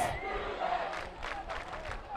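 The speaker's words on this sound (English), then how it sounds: "Eagles fans cheering, you can't do that." Eagles fans in the stands at a Joplin High School varsity football game against Ozark High School let out a distant, hollow crowd cheer that rises and falls in a few swells across the short stretch.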